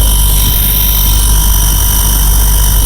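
A loud, steady compressor motor hum with a constant mechanical drone and vibration, running without a break during testing.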